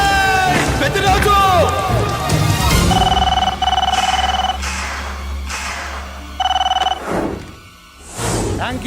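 A telephone rings in a Telugu movie scene, several short bursts of an electronic ring repeating near and clear after an opening of shouting and commotion, with speech between the rings.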